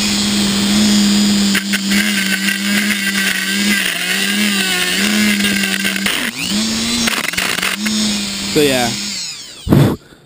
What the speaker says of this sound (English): it's real easy to Dremel